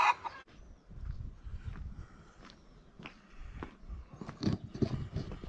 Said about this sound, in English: Chicken's just about to come down the ramp.